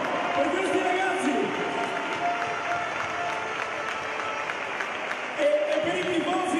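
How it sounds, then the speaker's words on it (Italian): An arena audience gives steady, sustained applause at an under-20 men's European volleyball championship celebration. The clapping is dense and continuous, with a voice over a loudspeaker heard above it. "un applauso grandissimo alla squadra della Polonia"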